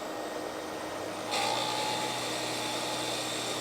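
A lathe trims down a custom rollerball pen section, a steady high whirring hiss that steps up and brightens as the cutting tool bites partway through, close with no talk.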